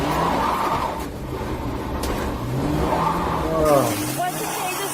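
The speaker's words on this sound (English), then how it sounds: "He takes off in the police car." A police patrol car revs and accelerates away, its engine surging and droning under talking voices, with a brief tire scrub near the end.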